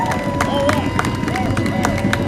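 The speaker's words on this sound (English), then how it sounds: "So give yourselves another round of applause." Crowd at a climate direct-action rally in DC clapping and cheering in a dense, continuous burst, with voices and babble mixed through the noise.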